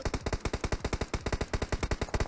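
Rapid automatic gunfire in a video game, a steady stream of evenly spaced loud shots that runs unbroken, close and dominant.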